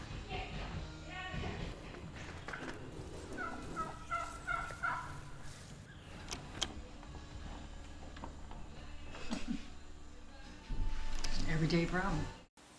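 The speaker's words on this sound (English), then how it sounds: "these wild turkeys coming around every day" Wild turkeys gobble repeatedly in bursts, fairly close, with footsteps and thuds around them and a person talking over parts of it.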